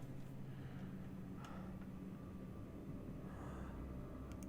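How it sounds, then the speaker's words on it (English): A low, steady droning hum in the horror game Monstrum signals the monster lurking nearby, faint and continuous with a few soft ticks and rumbles over it. "flickering lights and that hum indicating that, yeah, he's around"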